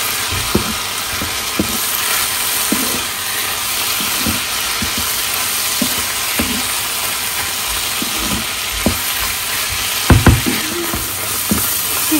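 Chopped tomato and green chilies fry with spices in a pan, giving a loud continuous sizzle broken by irregular close clinks and scrapes of stirring.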